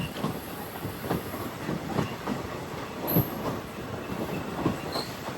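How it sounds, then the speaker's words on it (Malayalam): A passenger train on the Tirunelveli to Kanniyakumari line rolls into Aralvaimozhi station, its wheels clicking rhythmically over rail joints under a steady rumbling hum, heard from on board with faint squeals. "എട്ട് 13 ട്രെയിൻ ഇപ്പോൾ അരൽവായി മൊഴി സ്റ്റേഷനിലേക്ക് ഇതാ എത്തുകയാണ്."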